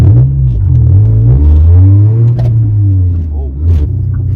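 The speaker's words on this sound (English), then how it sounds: "the car is very loud, but that's not because it's got a modified exhaust system or anything" A Honda Civic EG's B18C2 engine revs loudly up close, its deep droning pitch rising and falling, with a rough, blatty exhaust note from an exhaust leak.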